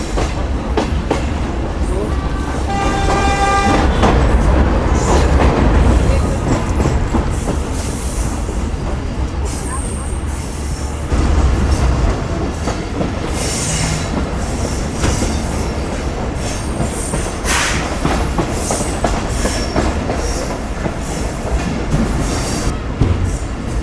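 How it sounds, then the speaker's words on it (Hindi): Pak Business Express passenger train rolling through Hyderabad, Pakistan, with a steady loud rumble of wheels on rails, rhythmic clatter and occasional high wheel squeals running throughout. "ट्रेन हमारी हैदराबाद में चल रही है फ़िलहाल।"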